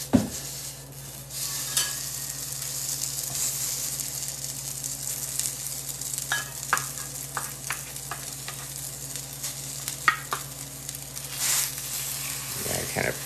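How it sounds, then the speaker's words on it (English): Batter made from saltine crackers sizzles steadily in an oiled frying pan, a broad continuous hiss with faint scraping and clinks of a utensil over a low hum. "let's see what happens when this so-called batter"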